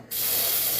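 Baking spray hisses from a can into a non-stick baking pan, starting abruptly and holding a loud, steady close-up spray.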